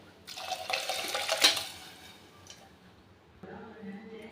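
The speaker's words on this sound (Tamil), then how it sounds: "நான் வந்து ஒன் இஸ்ட் டூ வாட்டர் ஆட் பண்ணிக்கிறேன்" Water is poured into rice for rice-and-lentil rice, giving a splashy, hissing pour of about two seconds. A quieter trickle and a softer burst of filling follow.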